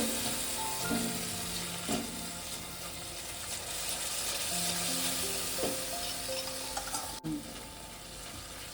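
Spice masala with whisked yogurt sizzles steadily in a pan over low heat for a mushroom and potato curry, with occasional scrapes and clinks of stirring near the pan and no talking.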